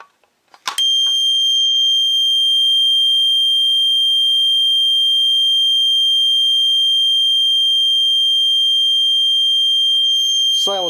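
Fire alarm triggered by pulling a Simplex pull station, a loud continuous high-pitched electronic tone that holds steady for about ten seconds before cutting off, with brief noise at the start and end.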